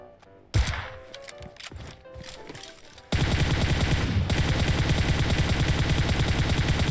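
AWM sniper rifle fire in the PUBG Mobile shooter game: a sharp thump, then scattered shots, then a dense, steady roar of rapid gunfire at close range.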